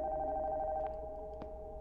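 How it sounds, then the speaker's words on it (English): A telephone rings upstairs in the horror game Nocturnal Visit, a faint electronic bell tone sounding steadily, quiet and distant beneath low ambient game noise. "The phone upstairs is ringing."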